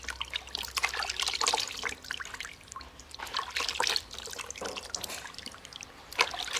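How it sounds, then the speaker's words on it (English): Lukewarm water trickles and splashes steadily while a face is rinsed during a facial cleansing routine, close and moderately loud, with brief louder splashes near the end. "Rinse with lukewarm water, not hot water."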